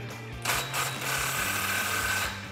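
A pneumatic impact gun with a 15 millimeter deep socket loosening a tight, rusty exhaust clamp on a Dodge Challenger gives a close, continuous mechanical whirring rattle with a steady tonal hum, briefly shifting pitch partway through.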